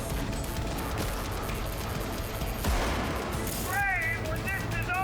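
Gunfire in Cyberpunk 2077 crackles as scattered shots and bursts, muffled as if from another room, under a dense game soundscape, with some talk mixed in.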